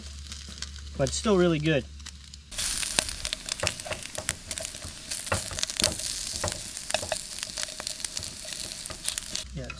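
Bacon and eggs sizzle and crackle steadily in a frying pan, a dense close-up fry that runs for most of the stretch, with someone talking over it.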